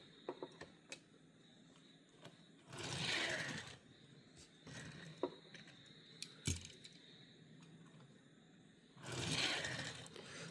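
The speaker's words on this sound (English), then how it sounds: "let's do a roll test now. That does roll really good." A small Matchbox die-cast Mazda Autozam AZ-1 toy car with a wobbly front wheel rolls across a hard surface, making two soft whirring bursts of rolling noise separated by light scattered clicks and taps, faint and close.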